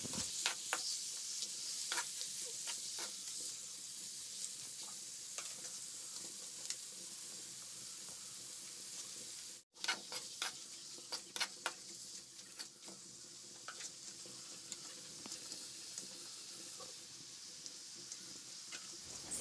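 Chicken pieces frying with onions and spices in a curry pan, a steady soft sizzle broken by intermittent scraping and clinks of stirring, close and fairly quiet.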